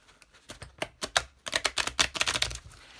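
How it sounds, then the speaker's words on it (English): Rapid crisp riffling of a card deck being shuffled, bursts of quick snaps close by, growing denser midway, with no talking. "let's start with a bit of a shuffle."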